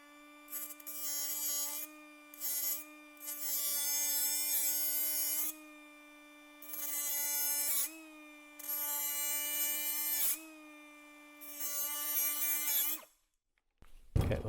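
A metal transmission cooler line from a Jaguar XJS V12 is cut with a power tool. A steady, close motor whine runs throughout, broken by repeated harsh grinding bursts as the blade bites into the metal.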